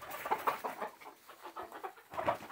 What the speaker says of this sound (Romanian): Uitați cloșca.